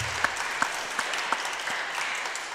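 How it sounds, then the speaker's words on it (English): An audience at a 2021 annual parish church meeting applauds in a steady, even round of clapping, with a few sharper individual claps standing out near the start. "Can we thank Rob by giving him a round of applause and welcoming him?"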